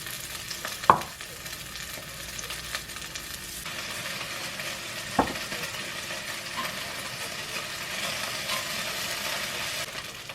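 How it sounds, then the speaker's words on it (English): Beef browning in batches in a pan for stew, a continuous low sizzle with a couple of sharp utensil knocks early on, close by and fairly quiet. "And then you can go in with your next little beef and continue doing this till you've browned off your whole"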